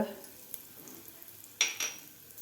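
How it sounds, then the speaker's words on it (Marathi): Cumin seeds and asafoetida fry in hot oil with a faint, steady sizzle, broken by a couple of sharp clinks and scrapes of a spoon against the pan. "जिरे आपल्याला व्यवस्थित फुलू द्यायचे आहेत त्यानंतर घालायचं आपल्याला यामध्ये हिंग"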